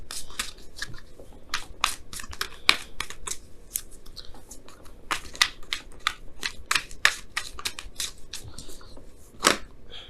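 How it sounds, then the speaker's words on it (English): Tarot cards are handled and shuffled close up, with a rapid run of sharp papery snaps and riffles in irregular bursts, quiet between, no talking. "that was a really bad shuffle on my part"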